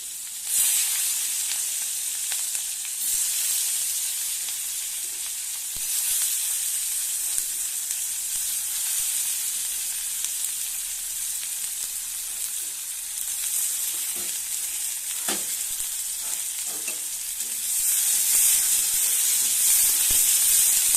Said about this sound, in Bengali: তেলের মধ্যে পেঁয়াজ ছড়া দেবো